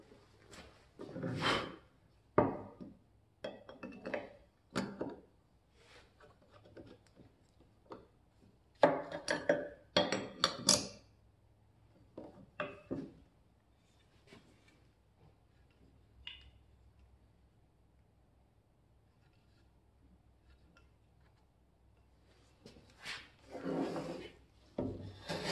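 A Korean wooden hand plane, its cap iron set back, takes thick shavings from a board in separate rasping strokes, each a short scraping swish, with quiet gaps between them.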